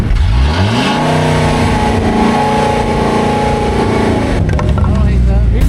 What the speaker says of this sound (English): It's the old Penske box truck.